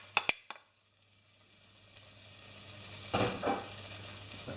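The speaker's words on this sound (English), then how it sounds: "So now I'm going to tip in the flour and give a bit of a stir" Flour stirred into melted butter in a pan for a béchamel roux: a few sharp taps at the start, then a quiet soft sizzle that swells into scraping stirs toward the end.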